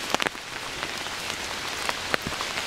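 Rain pattering on a surface outdoors near a charcoal mound by the Barkhamsted lighthouse site, a steady close wash of drops with scattered louder individual drips, no voices.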